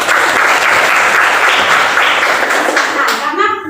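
Classroom applause during an arts and culture lesson, a dense burst of many hands clapping loudly and steadily for a few seconds before quickly dying away at the end.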